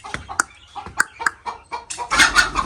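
Hens clucking close by in a home courtyard, a string of short, sharp clucks and squawks that rise into a busier, louder flurry of calls toward the end.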